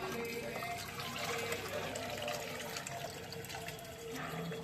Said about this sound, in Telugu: కొత్తిమీర నీట్గా కడుక్కొని లాస్ట్లో ఫినిషింగ్ టచ్